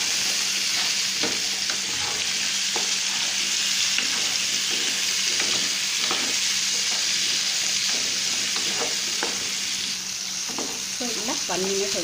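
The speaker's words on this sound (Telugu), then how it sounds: "ఇప్పుడు మునక్కాయ ముక్కలు వేసేస్తాం. బాగా కలుపుకోవాలి." Drumstick pieces sizzle and crackle steadily in hot oil with turmeric, with intermittent scraping and clatter of stirring in a pan, continuous and close with no voices.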